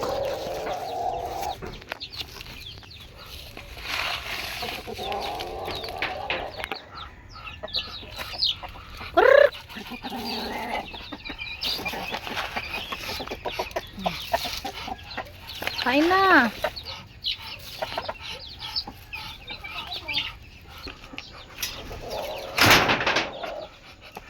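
Several chickens cluck and squawk close by amid rustling and movement while being fed, as a person speaks a few short words.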